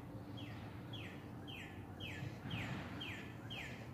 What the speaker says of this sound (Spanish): Qué bonito cantan los pajaritos